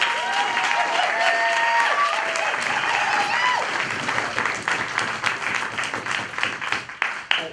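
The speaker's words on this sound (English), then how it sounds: "So clap it up for Lee." Audience applause at a climate march workshop, dense and loud clapping mixed with a few cheers and whistles, thinning into scattered claps toward the end.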